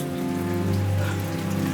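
Rain falling steadily on a mountain, a dense continuous hiss of drops hitting surfaces close by, alone without voices.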